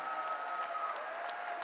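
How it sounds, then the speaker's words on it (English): A basketball crowd applauds players during a Portland men's game against Santa Clara, a soft, distant, steady wash of clapping beneath arena ambience with a faint sustained tone running through. "One more big round of applause for Ellis, Joey, Jack, Christian, and Mike"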